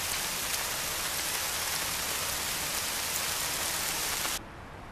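Heavy rain pours down at Mount Roraima as a dense, loud, unbroken hiss of drops on surfaces, and then it cuts off abruptly to a quieter background near the end.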